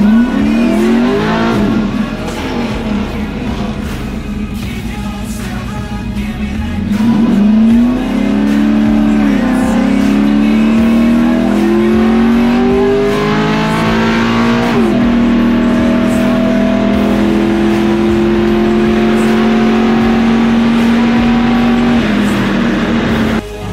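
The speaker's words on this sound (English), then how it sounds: "So we're all getting ready to take the pro touring cars and trucks and let her rip down drag strip." A pro touring car rips down a drag strip at an LS event, its V8-style engine roaring loud and close as it accelerates hard through rising gear pulls, with no talk over it.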